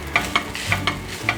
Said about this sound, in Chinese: 把饭和红萝卜拌匀。